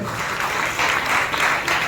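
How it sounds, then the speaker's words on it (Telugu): A congregation at an Easter worship service in Nellore claps loudly and steadily, a brief dense wash of many hands that swells slightly toward the end. "బిగ్గరగా చప్పట్లు కొట్టి ప్రభువును మహిమపరచండి"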